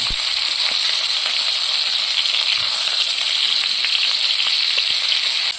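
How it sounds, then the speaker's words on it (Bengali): Vegetables frying hard in hot oil in a pan, a loud, steady, dense sizzle that runs unbroken and close throughout, with faint stirring ticks. "ভালো করে ভেজে নেব"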